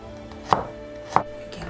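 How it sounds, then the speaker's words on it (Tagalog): Two crisp knife chops on a cutting board, spaced about half a second apart, as garlic is being minced by hand; close and distinct against quiet room tone, with no talking. "Hiwa po tayong bawang. Pinuhin muna natin ito."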